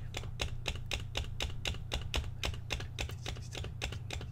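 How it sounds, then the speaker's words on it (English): Steady run of computer keyboard keystrokes, likely the space bar pressed over and over, about four taps a second, crisp and close over a low constant hum, no voices. "So type 23 spaces."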